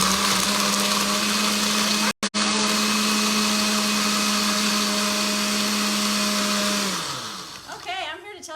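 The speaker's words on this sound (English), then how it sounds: "we're gonna whirl that up in the blender and see how it crushes ice." A small Oster blender crushing ice roars steadily at high speed, loud and close, briefly cutting out, then winding down with rattling as it stops.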